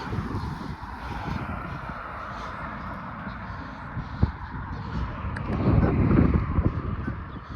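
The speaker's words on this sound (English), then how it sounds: "So windy." Wind gusting and buffeting against a microphone on an outdoor neighbourhood walk in Edmonton, a continuous rumbling roar that swells louder near the end.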